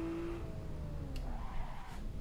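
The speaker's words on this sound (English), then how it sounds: "Yeah, I can lock up the brakes" Tires squeal and skid as the brakes lock up on a car in a racing video game played on a Fanatec CSL Elite V2 pedal set, a short wavering screech over a low engine drone.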